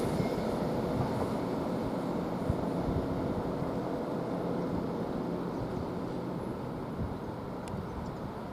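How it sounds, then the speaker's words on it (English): An LNER Azuma train from Edinburgh to London King's Cross passing through Peterborough station, a steady, broad rumble and rush of wheels and wind held at constant loudness throughout, with no talk. "this one is from Edinburgh to London King's Cross. It's passing that now at 1526"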